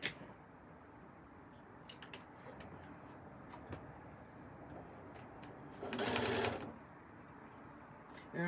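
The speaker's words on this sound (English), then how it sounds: "I just flip it and hold it down and then sew straight across" A sewing machine stitches a puff quilt in a quiet room, with one short, faint burst of running stitches partway through against low background hiss.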